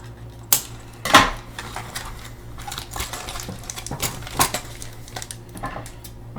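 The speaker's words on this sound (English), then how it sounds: "grab my scissors, those work a little better than the knife" Scissors snip through the rubber fasteners holding a Barbie Signature Looks Ken doll in its packaging, giving a few sharp, close clicks and cuts spread apart over near-silence.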